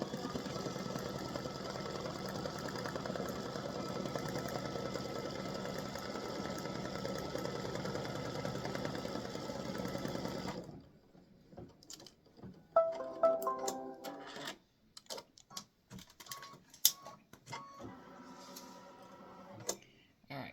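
An embroidery machine stitches a placement stitch in a steady, rapid mechanical whir for about ten seconds, then stops; afterward come scattered handling clicks and taps while a person talks.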